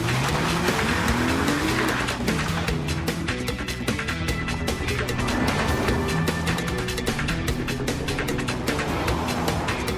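A 2013 Lexus GS350 sedan on a test drive, its engine and road noise loud and steady throughout, with gliding pitch sweeps as it accelerates and shifts, plus faint tire hiss.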